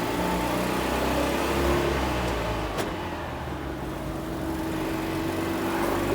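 A Citroen 2CV 4x4 Sahara with twin engines, front and rear, drives on the road with a steady, loud engine drone and mild revving, heard from inside the car with no talk.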